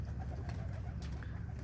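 Pigeons cooing softly in a loft, a low steady murmur of several birds with faint rustling, no voices.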